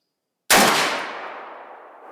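A single sharp, loud gunshot from an AR-15 pistol with a 7.75-inch barrel firing 7.62x39 Winchester PDX-1, with a ringing echo that decays over more than a second outdoors.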